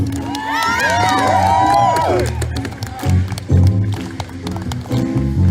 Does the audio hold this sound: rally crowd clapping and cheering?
yes